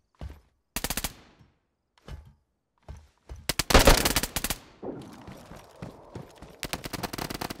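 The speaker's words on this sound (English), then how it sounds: "I heard some gunshot." Bursts of rapid gunfire in DayZ crackle in short volleys separated by silences, with a rumbling blast in the middle, sharp and close.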